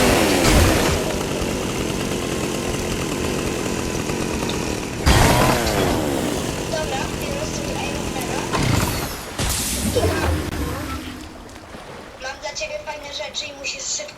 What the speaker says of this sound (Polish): Przyciśnij sobie piłę lewym przyciskiem